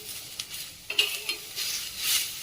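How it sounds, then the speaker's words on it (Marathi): Onion being sautéed and stirred in a pan alongside curry leaves and coriander stems, a soft sizzle with scraping stir strokes and a light clink of utensil, close and moderately quiet with no talking. "अशा पद्धतीचा कांदा परततोय"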